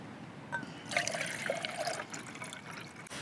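Around 400 millilitres of water pours into a camping stove pot outdoors, a soft close trickle and splash with gentle dribbling that runs for a few seconds before tapering off.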